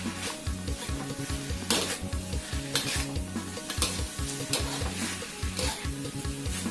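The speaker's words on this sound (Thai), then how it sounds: "ผัดลงไปจนแห้งครับ" Holy basil leaves stir-fried with chicken in a pan until dry: loud, close sizzling broken by rhythmic scraping strokes of a spatula against the pan, repeated roughly every second, with no voices.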